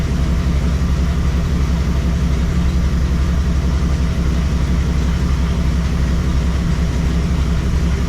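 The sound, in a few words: 1987 Dodge D100 engine idling after timing adjustment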